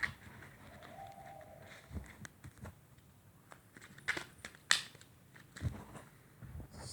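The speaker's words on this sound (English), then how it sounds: "I wonder if you could hear the bird or not." A bird calls outdoors, faint and distant, with a few brief chirps scattered among light taps and clicks in a quiet room.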